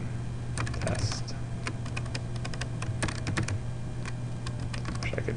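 Rapid, uneven keystrokes on a computer keyboard as a command is typed into a terminal, close and fairly quiet, clustered in bursts over a steady low hum, with no talking.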